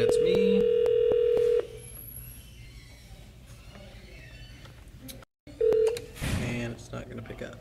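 An Avaya 5410 IP Office desk phone dials an extension: a steady tone for over a second, then quiet line hiss, a short beep, and a faint ringback, with a voice briefly heard.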